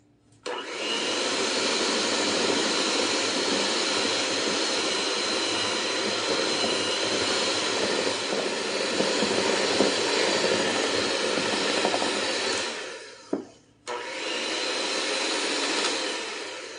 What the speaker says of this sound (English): this beater does not have a low to low speed, so it's probably going to make a mess